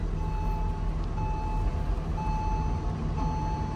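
A Porsche Carrera GT rolls slowly backward up a slope on clutch alone with no throttle, giving a steady low engine drone and a continuous high whine throughout.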